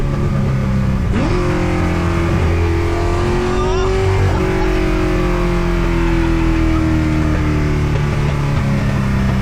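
A powerful Ford GT40 sports car engine roars and climbs in pitch as it accelerates hard on the street, loud and close, with a steady deep rumble throughout.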